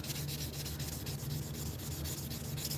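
Steady, continuous abrasive sanding of an edge by hand, a close, even rubbing rasp at constant loudness with a faint low hum underneath and no voices.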